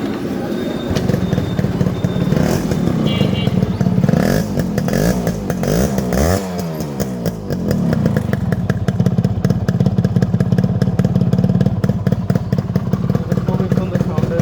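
A Yamaha RX100 two-stroke motorcycle, freshly rebuilt with a new connecting rod and 25-size piston, runs close by with a loud, steady engine drone that rises and falls as it is revved midway, with no one speaking over it.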